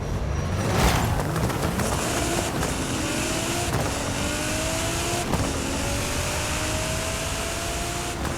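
Nissan Z Nismo drag build in Forza Horizon 5 accelerating hard down the quarter-mile drag strip, engine note climbing steadily through several gear shifts with a few short breaks, loud and close throughout, no talking.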